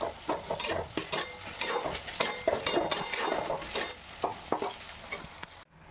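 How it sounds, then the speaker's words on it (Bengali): Garlic and onion frying in a pan for Bengali chicken kosha, a continuous close sizzle broken by repeated scraping strokes of a spatula against the metal, stopping abruptly at the end. "রসুন আর পেঁয়াজটা একটু ভেজে নেব।"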